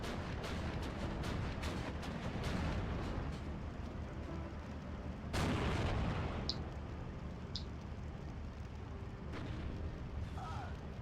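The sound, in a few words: gunfire and artillery shooting in the video game Steel Division 2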